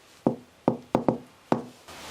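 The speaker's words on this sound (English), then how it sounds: "I want to hear you knock. Can you finish this knock?" Sharp knocks on a hard surface ring out during a ghost-hunting exploration, five close, loud raps in an uneven rhythm, two in quick succession, with no talk.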